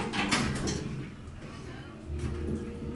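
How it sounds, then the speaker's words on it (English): A two-speed sliding door on a re-modernized hydraulic elevator at Lambert St. Louis Airport glides along its track with a mechanical rumble, closing and then moving again, heard nearby at moderate volume. "two-speed door"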